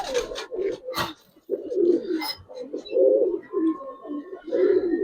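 Giribaz coloring pigeons coo in soft, low, repeated throaty calls that are close by. A few sharp flutters and brief gaps break the cooing.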